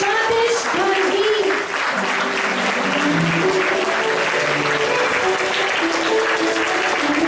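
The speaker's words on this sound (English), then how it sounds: "give it a big round of applause to the great Dr. Jagdish Gandhi" A standing audience gives a long, big round of applause for Dr. Jagdish Gandhi, full and sustained clapping from a large crowd that stays loud throughout, with a few voices rising over it.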